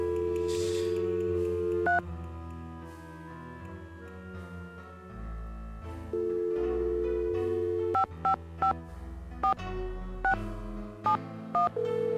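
A telephone number is dialed on a keypad, giving a quick series of short, distinct DTMF beeps after a stretch of steady tones, with no talking.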